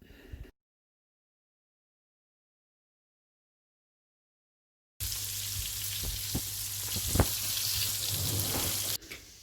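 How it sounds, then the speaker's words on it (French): Sardines frying in hot oil: a steady, close crackling sizzle with sharp pops, starting after a long silent gap and running a few seconds on its own. "je vais frire mes sardines dans de l'huile chaude"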